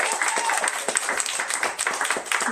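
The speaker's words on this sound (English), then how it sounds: "Can we get one more round of applause?" An audience at a book launch reading gives a round of applause, quieter scattered clapping with distinct individual claps, heard up close for a couple of seconds.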